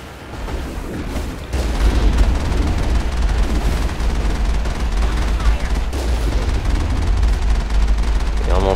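Sustained automatic gunfire and booming blasts in the Mass Effect video game, loud and nearly unbroken, with a voice briefly heard beneath the shooting.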